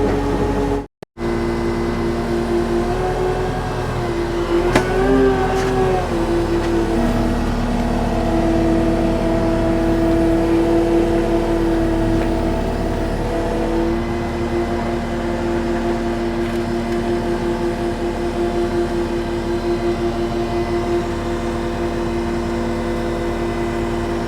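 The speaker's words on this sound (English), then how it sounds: "Skid steer doesn't want to lift this thing up." Skid steer engine labouring under a heavy pile of tin sheets, a loud continuous drone that rises in pitch as it revs and strains, close up, with no talk.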